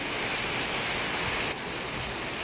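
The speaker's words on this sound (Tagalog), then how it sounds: "Malakas ang ulan." Heavy typhoon rain pours down outdoors in the Philippines as a steady, dense hiss of water, loud and close, with a slight drop in intensity partway through and no voices.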